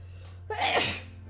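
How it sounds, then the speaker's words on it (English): A single sharp sneeze from a character in the Gabriel Knight 2 adventure game, a quick inhaled build-up breaking into a bright burst over a low steady hum. "Got to sneeze."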